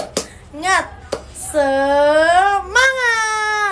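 A classroom ice-breaker clapping cheer: a few sharp, separate hand claps punctuate a voice that chants in a drawn-out, sing-song rhythm, loud and close.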